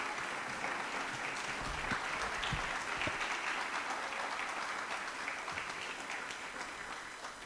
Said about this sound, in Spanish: Eso merece una ofrenda de palmas al Señor.